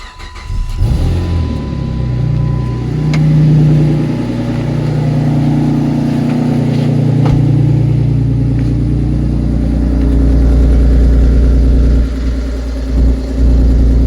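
A car with 98,000 miles cranks over and catches, then runs loud and close, its engine rising and falling through several revs and settling into a rumbling idle.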